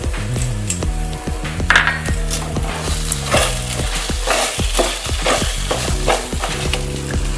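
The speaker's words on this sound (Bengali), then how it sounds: "ভালোভাবে কিন্তু মশলাটা ফ্রাই করে নিচ্ছি" Ginger paste and ground cumin fry in a hot pan as a spatula stirs them, giving a continuous sizzle broken by quick, rhythmic scrapes and knocks against the pan, close and fairly loud.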